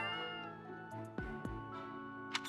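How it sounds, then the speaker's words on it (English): A cat in the video game Fire Emblem: Three Houses gives two short meows after being fed a turnip, over steady in-game background music. "I've just fed a cat a turnip and it looked happy"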